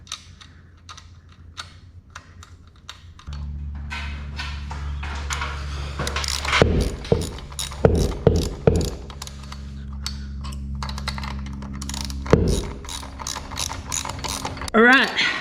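A wrench ratchets on a nut on a garage door spring, with rapid clicking runs under a steady mechanical hum and a few louder metallic clanks, close by.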